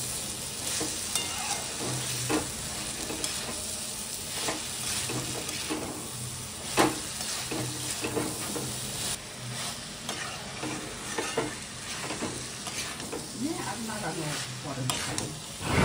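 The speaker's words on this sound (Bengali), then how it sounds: "তাই মা এখন এই সোয়াবিনটাকে সুন্দরভাবে কষিয়ে" Soybean chunks stir-fry in a pan with steady sizzling and frequent scraping stirs, loud and close, with occasional speech in the background.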